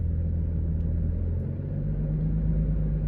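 Steady low engine rumble from a manual stick-shift car held at low revs while a learner driver eases on the gas from a stop, a constant drone with no clear rev climb.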